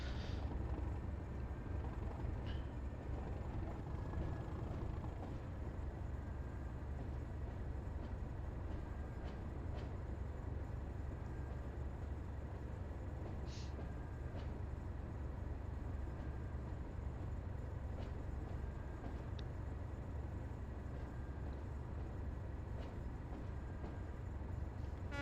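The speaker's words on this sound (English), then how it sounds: "I'm just going to put a bit more power on, because otherwise we'll never pick up this train." A loaded coal train in Train Sim World on the Tees Valley Line drones low and steady as it picks up power, with a constant rumble and a few faint clicks and squeals over it.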